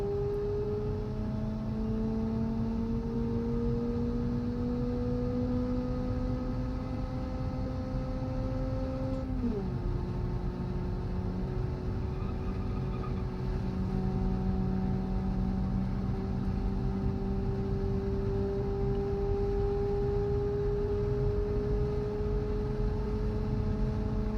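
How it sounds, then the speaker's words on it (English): A car engine at full throttle in the video game Automation, a steady drone with a tone that rises, drops sharply, then holds at a high sustained pitch, continuous and loud with no talking. "Let's give the engine some nice throttle, and I'll let you guys listen to it as well."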